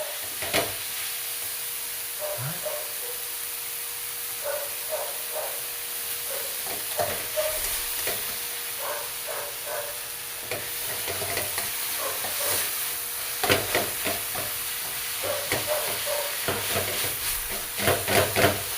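Crushed tomato mix for a vegetable dish sizzles steadily in a pan, with repeated scraping strokes from a spoon as it is stirred, close and continuous.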